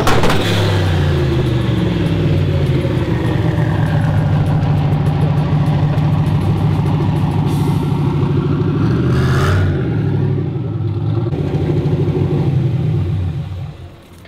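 A turbocharged 1969 Camaro with an LS swap pulls in, its deep, rumbling engine loud and steady, with a few revs and surges before it fades out near the end.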